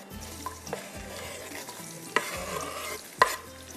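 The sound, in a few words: onions frying and browning in a pan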